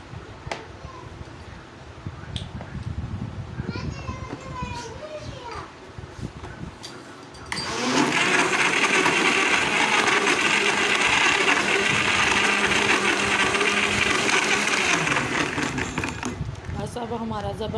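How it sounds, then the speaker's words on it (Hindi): A kitchen blender whirs steadily through melon milkshake with ice, starting midway and running loud and continuous for about ten seconds. Before it starts there is talk and clatter in the room, along with a voice and a cat's meow. "बर्फ़ डालने के बाद इसको थोड़ी देर के लिए हम चला देंगे।"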